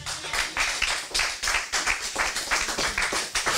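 A church congregation claps together in a steady, rhythmic beat during a Sunday worship service, loud and continuous throughout.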